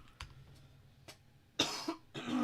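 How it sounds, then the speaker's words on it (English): A few quiet, scattered coughs, then two louder, harsher coughs close by, separated by short pauses. "now I think I am just coughing"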